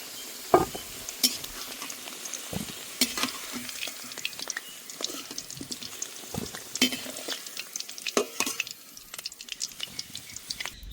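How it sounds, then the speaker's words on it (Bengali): Potatoes fry in oil in a pan while being stirred, with soft sizzling beneath frequent sharp scraping and clinking strokes of a utensil against the pan, keeping up an irregular busy rhythm throughout. "আলুগুলো ভালো করে ভেজে নিয়েছি, এবার তুলে নেব"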